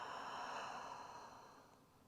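A long breathy exhale through the mouth during a guided yoga breathing practice, one steady airy rush that slowly fades, soft and close with no talking over it.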